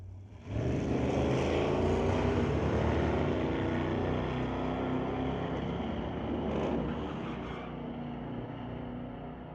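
A pair of Chevrolet S10 pickup trucks launching down a drag strip at a street-legal night at Mission Raceway Park, a loud sustained engine roar that swells and then slowly fades as they pull away.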